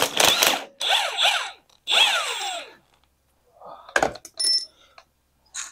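A power tool, likely an impact gun, spins bolts out of a Jeep steering gearbox, with three loud whining bursts whose pitch sweeps up and down, followed by quieter clunks and metallic clinks.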